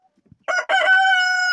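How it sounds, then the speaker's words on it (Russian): A rooster crows once, loud and close, in a farmyard coop in winter: a short broken start followed by a long sustained call with no talking. "Сейчас закрою и кукарекает."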